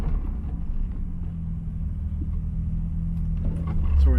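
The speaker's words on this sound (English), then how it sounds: "we're doing our first double clutch" A car engine during a double-clutch gear shift hums low and steady from inside the cabin, then swells louder in the final moment.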